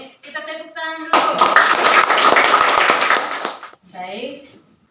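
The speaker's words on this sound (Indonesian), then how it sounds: "Kita tepuk tangan dulu." A school class claps together during a lesson, a dense burst of hand applause lasting several seconds, with a person's voice heard briefly just before and again right after it.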